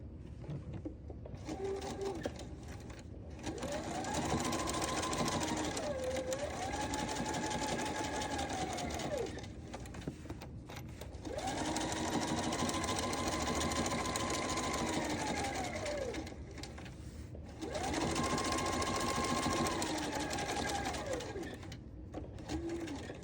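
A sewing machine top stitches a bag seam in three long steady runs, each a loud, even motor whir with a rising and falling pitch, separated by short pauses.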